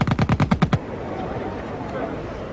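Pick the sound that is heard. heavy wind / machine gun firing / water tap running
machine gun firing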